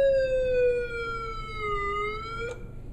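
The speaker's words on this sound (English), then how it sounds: "1993 Hess Patrol car, flashing lights and sounds" A 1993 Hess Patrol toy police car plays its electronic siren, a clear tonal wail that slides slowly downward and rises again, loud and close, ending with a brief click.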